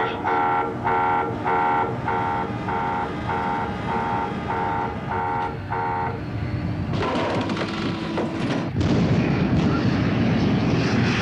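An alarm beeps rhythmically aboard a warship for several seconds, then the loud roar of enemy aircraft passing overhead sweeps in and swells to the end.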